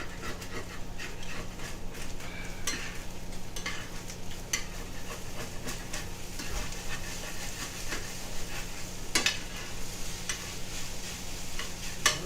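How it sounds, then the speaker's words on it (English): Chicken and vegetables stir-fried in an ordinary pan rather than a wok, with a steady sizzle under repeated scraping and stirring strokes at close range. "So this is about as close to stir fry as I can get."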